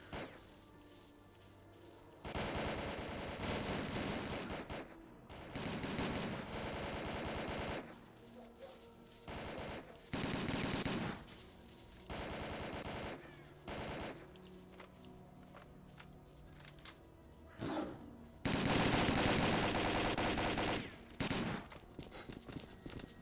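Gunfire in S.T.A.L.K.E.R.: Call of Pripyat, loud automatic bursts in repeated blocks lasting one to three seconds, separated by short gaps and scattered single shots, with the heaviest sustained burst near the end.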